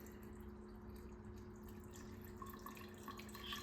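Quiet trickle of lion's mane water extract being poured through a filter, a soft continuous liquid drip over a low steady hum, faint and close.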